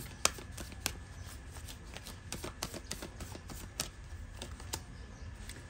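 Tarot cards shuffled and drawn, quick papery flicks and riffles ticking in an uneven rhythm, close and fairly quiet.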